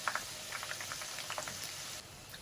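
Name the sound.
chicken wontons frying in oil on medium heat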